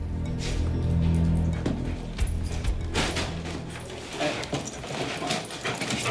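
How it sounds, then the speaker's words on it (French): A drug-detection dog searches close by, marking on a bedside table drawer, with soft whimpers, sniffing and scuffling amid rustling and bumping sounds. "C'est le chien qui va repérer où se trouve la drogue."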